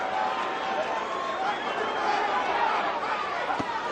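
A boxing crowd rumbles with steady chatter and cheering in support of heavyweight Ray Mercer, a dense, continuous arena roar with no single sharp peaks.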